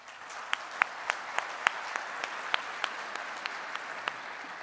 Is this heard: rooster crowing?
no